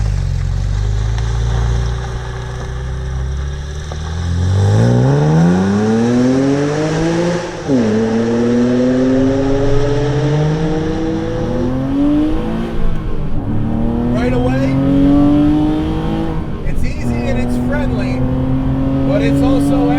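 A 400 WHP naturally aspirated 4.2L wide-body Porsche Cayman with a standard six-speed gearbox accelerates hard, its engine note climbing steadily through the gears with brief dips at each shift, loud and close throughout.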